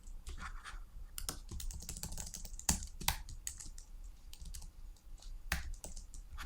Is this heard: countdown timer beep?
no